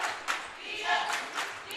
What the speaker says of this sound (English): We get a little noise from the crowd over here.